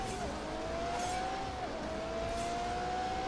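Race car engines in a drag race in The Grand Tour game, a steady high engine whine holding pitch with a couple of gear-change dips, loud and close with no talk.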